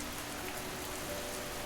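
Heavy rain pours down in a steady, dense wash of noise that fills the whole clip, with no voices or other sounds over it.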